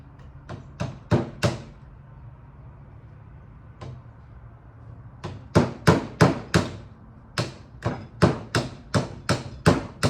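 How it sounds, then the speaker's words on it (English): Sharp metallic blows of a big hammer on a punch, driving out a bolt on a Cummins one-wire alternator, ring out in bursts: four quick strikes, a lone tap, then two rapid series of steady, evenly spaced hits, loud and close. "I got a little punch. Pretty big hammer. Let's see if we can get this bolt out."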